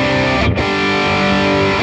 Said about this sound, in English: it's just basically like a 80s type Marshall JCM 800 sound